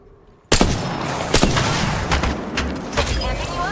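Dense gunfire from Apex Legends erupts suddenly after a short quiet lead-in, then carries on as loud overlapping bursts with sharper cracks punching through the roar.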